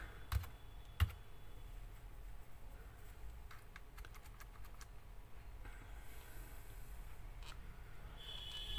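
Keys tapped on a computer keyboard while entering a command into the Windows 10 Run box, a few sharp louder clicks early on followed by steady light rapid typing over a quiet background.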